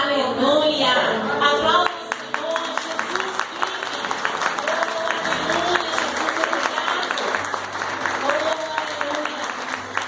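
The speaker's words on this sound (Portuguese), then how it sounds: "Aplausos, Senhor" A congregation applauds in church during an Easter celebration, with a clattering, uneven clapping that continues under music and voices for about ten seconds, while a dense, lively crowd sound fills the room.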